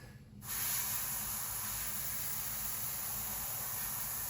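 An airbrush sprays paint through a cheap stencil onto a 1/48 scale B-25B model aircraft, a close, steady hiss that starts abruptly and runs on evenly without talk.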